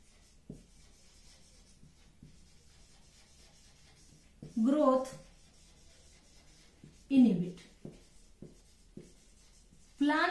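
A teacher in a Class 10 biology lesson writes with a marker on a board, producing faint scratchy strokes and a few louder squeaky bursts spread over about ten seconds, with quiet speech nearby.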